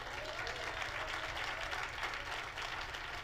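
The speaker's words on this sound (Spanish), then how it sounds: "Un aplauso al Señor." A church congregation claps together in praise during a sermon, a steady, soft wash of applause heard at a distance for a few seconds.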